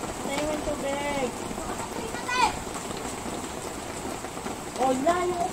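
Rain keeps falling around a Meycauayan subdivision house, a constant wet hiss and patter with people speaking intermittently over it.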